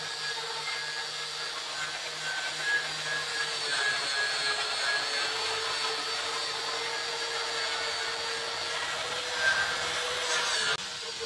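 An angle grinder buffs metal with buffing soap, giving a steady, loud, continuous high whine with slight rises in pitch, running alone without speech.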